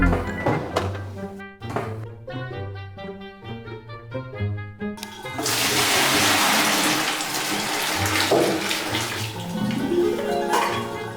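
Hot water gushes into a bucket in a continuous rushing pour that starts partway through and carries on to the end, preceded by a few thunks and tonal sounds.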